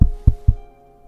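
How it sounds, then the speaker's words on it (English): A pop filter knocking against a microphone stand: three dull, low thumps in quick succession, close and fairly loud, with a quiet hum remaining afterward. "there's occasionally feedback from this filter making contact with the mic stand"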